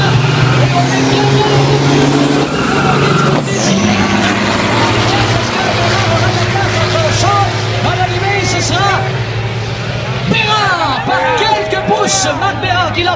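Drag race vehicles roar down the track at the Baie-Du-Febvre 2014 Challenge 255, a loud continuous engine drone with shifting tones beneath an announcer's running commentary and crowd noise.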